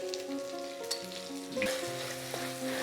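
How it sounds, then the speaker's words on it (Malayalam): Masala for a fish curry with drumstick and mango frying over a medium flame while being stirred, a steady soft sizzle with occasional scraping of the spoon, heard close and fairly quiet. "ഇത് ചെറിയ ബ്രൗൺ നിറം ആവുന്നത് വരെ നമുക്കിങ്ങനെ ഇളക്കി കൊടുക്കാം."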